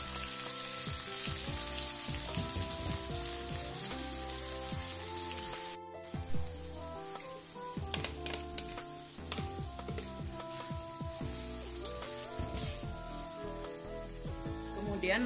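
Steady sizzling of shallots and blended green chili paste frying in a pan, with occasional scraping of stirring, plays over a continuous background melody.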